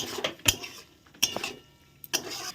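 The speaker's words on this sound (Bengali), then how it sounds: "চিনিটা দিয়ে ভালো করে এখন আবার নেড়ে চেড়ে কষিয়ে নেব" Spatula clinking and scraping in a pan while paneer posto masala is stirred with sugar, three or four distinct metallic strikes with soft scraping between them, close up and without talk.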